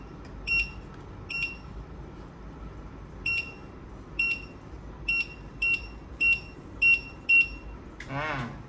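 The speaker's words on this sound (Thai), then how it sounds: "ผมจะเริ่มสแกนนะครับ" A barcode scanner at a shop checkout counter gives around nine short, sharp beeps at uneven intervals as items are scanned one by one, followed by a brief rustle of handling at the end.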